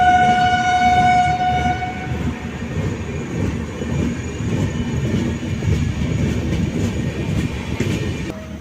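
The Nilgiri Blue Mountain Express sounds a long, loud horn blast near a station platform, followed by the steady rumble and clatter of the passing train that continues to the end.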